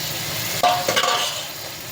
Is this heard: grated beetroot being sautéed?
yes